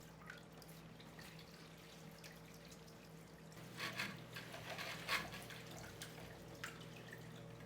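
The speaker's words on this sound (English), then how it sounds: "And I shake the old sponge into the new water." An old aquarium filter sponge shaken into fresh water, giving soft close splashes and drips over a low steady pump hum, with a brief cluster of louder sloshing midway.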